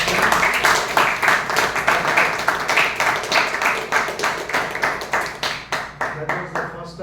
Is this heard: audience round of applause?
yes